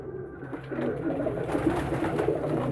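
Soft pigeon squab cooing and murmuring from a pigeon loft, faint and close, steady low calls with no talk.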